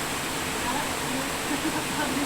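Water flows steadily in an outdoor natural setting, a broad, constant rushing wash with no breaks, fairly loud and close.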